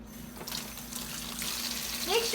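Tap water runs steadily into a sink while hands are washed before rolling out pizza dough, a continuous close gush that stays fairly even and rises slightly toward the end.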